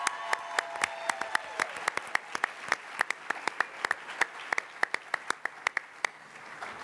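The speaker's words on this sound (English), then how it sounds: "Give Madam President another round of applause" Scattered audience clapping for the union president at a Chicago Teachers Union mayoral candidates forum, individual sharp claps spaced irregularly rather than a dense ovation.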